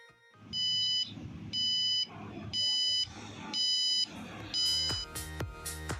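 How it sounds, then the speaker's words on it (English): A high-pitched piezo buzzer on an Arduino beeps in a steady on-off rhythm, five even tones with quiet gaps, followed by clicking and rattling. "This will make the buzzer ring continuously."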